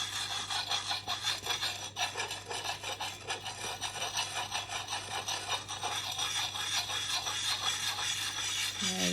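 A file rasps along a bill hook blade during sharpening, in rapid rhythmic strokes of steady, gritty scraping that continue close and unbroken throughout, with no talking.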